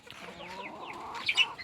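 Hens cluck softly nearby with a few rising squawks, over faint background noise.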